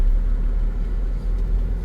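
A car passes along a newly paved rural road on the way to Trunyan village, a loud low rumble of engine and tyre noise that swells and eases over two seconds, with no talk.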